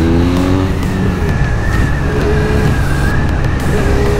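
Benelli Leoncino 500 motorcycle engine revving, close and loud, with rising and falling pitch sweeps as the throttle is worked, continuous throughout.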